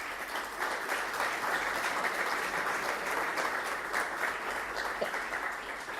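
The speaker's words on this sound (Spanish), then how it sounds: "pido un aplauso para él." Steady, sustained applause from an audience at a book presentation, dense clapping continuing without a break throughout.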